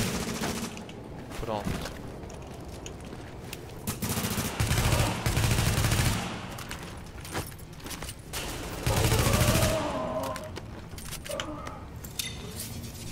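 Gunfire from the online co-op shooter The Division, with bursts of shots rising loudly around the middle and again later, over game sounds while someone talks at times.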